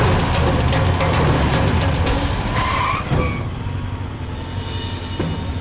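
Car tires screech and skid loudly over a roaring engine, the squeal rising then fading as the vehicle swings around.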